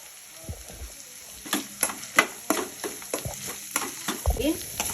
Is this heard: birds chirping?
no